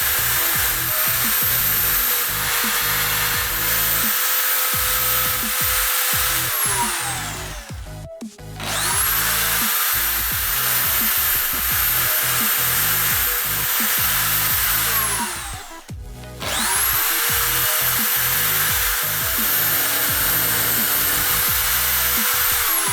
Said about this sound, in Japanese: じゃあまず穴を開けていきます。